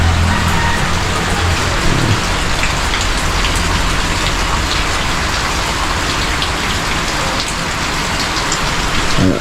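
Heavy, steady rain pours down in a continuous broadband hiss with dense drops pattering on surfaces, loud and unbroken throughout, with no voices.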